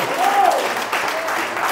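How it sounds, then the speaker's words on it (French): A church congregation applauds and cheers, a steady wash of clapping filling a short moment with a brief raised voice riding over it. "Est-ce que nous pouvons acclamer notre roi ce midi?"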